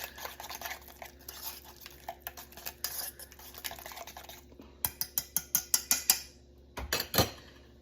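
A whisk beats tzatziki sauce in a bowl, quiet rhythmic scraping and clicking that turns into a run of sharper, evenly spaced taps against the bowl, then a couple of final knocks.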